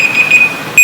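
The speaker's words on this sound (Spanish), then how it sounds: "Perdonen, pero es la alarma." An alarm goes off during a Spanish-language talk, a steady high electronic tone sounding loud and close, with a brief pause before it rings again.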